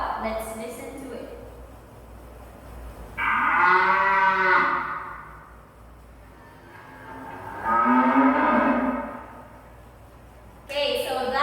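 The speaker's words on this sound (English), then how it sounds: "so that is the sound of a cow" A black-and-white cow moos twice in long, loud, drawn-out calls separated by a quiet pause, with a brief murmur of other sound at the start and end.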